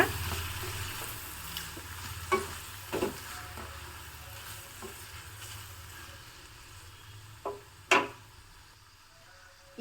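Finely chopped beans with fresh green peas frying in a pan, a faint steady sizzle broken by a few sharp scraping clicks as they are stirred.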